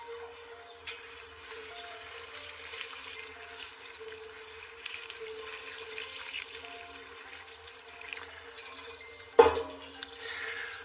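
Diluted liquid bulb feed being poured from a watering can onto garden plants, a steady close trickle of water with a brief louder splash or knock near the end.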